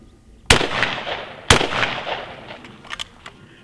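Two sharp, loud blasts from a 20 gauge shotgun firing reloaded hulls, spaced about a second apart, each trailing off in a long outdoor echo, followed by fainter distant pops.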